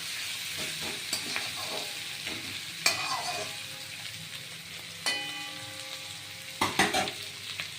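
Ginger pieces frying in a pan for a pumpkin dish with prawn heads, a soft steady sizzle broken by several sharp metallic stirring scrapes and clinks, fairly quiet, no talking.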